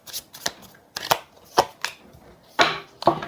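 Tarot cards are shuffled and drawn, giving a series of loud, close riffling bursts and slaps spaced about half a second apart.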